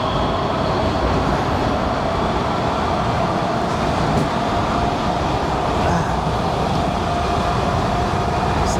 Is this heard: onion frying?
no